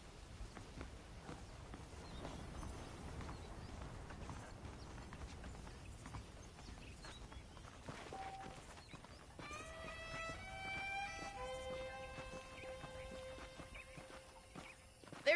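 Horse hooves clip-clop steadily in Red Dead Redemption, a continuous rhythmic walking gait at moderate distance over a quiet ambient bed, with a few tonal musical notes entering near the end and no talk.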